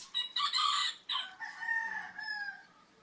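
A rooster crows nearby among a backyard flock of chickens, a loud strained cock-a-doodle-doo followed by softer clucking calls, fairly close and with no voices over it.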